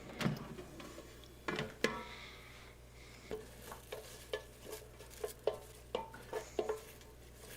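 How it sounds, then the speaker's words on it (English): Food being stirred in the basket of a Gourmia GAF698 air fryer, a quiet close-up run of scraping, clinking taps against the basket at an uneven pace, with faint sizzling underneath. "And one more stir here."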